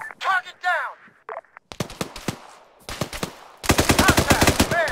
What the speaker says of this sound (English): Machine gun, 75 meters.